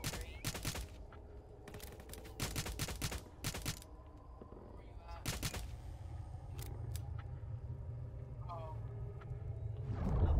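Gunfire in the Roblox game Jailbreak, several bursts of quick sharp shots in clusters separated by short pauses, fairly close, with quieter game ambience between.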